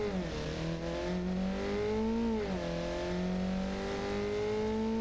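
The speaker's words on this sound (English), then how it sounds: "Is that a Honda Civic revving in the distance? No, boys. That's my truck." Truck with a 4.0-litre inline-four engine revving from inside the cab, a loud steady harmonic drone that dips and climbs twice as the revs change, with no talk over it.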